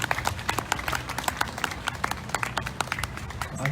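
Sustained applause from a large audience welcoming a guru at an Ekadasi gathering in Khanna, Punjab, many overlapping claps forming a dense, steady patter with a low murmur beneath, lasting throughout.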